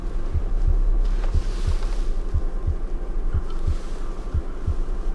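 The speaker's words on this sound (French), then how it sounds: "j'avais rajouté des battements de cœur de l'enfant qui s'accéléraient au fur et à mesure" A child's heartbeat sound effect in a short film: soft low thuds pulsing in a regular rhythm, about ten beats, over a faint airy background hiss.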